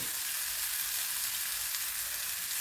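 Steady, close hiss of chili powder frying in a pan of prawn curry, a bright, even sizzle with no breaks and nobody talking.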